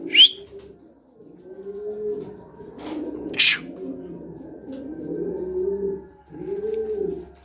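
Coop pigeons coo in a series of soft, rolling, repeated calls, preceded by a sharp high chirp and a couple of brief clattering sounds, close and fairly clear with no talking.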